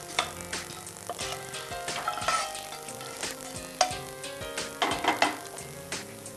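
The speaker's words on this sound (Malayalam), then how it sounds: "നല്ലവണ്ണം ഇളക്കി കൊടുക്കും" Payasam is stirred in a pan for an Onam sweet, giving soft scraping and bubbling with occasional sharper clinks against a steady background, with no talk.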